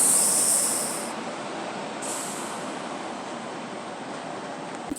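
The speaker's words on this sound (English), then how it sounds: "That's Gloria train" A train departs from a station in France with a steady rumbling roll and a high-pitched hiss that fades after the first second, heard alone without voices.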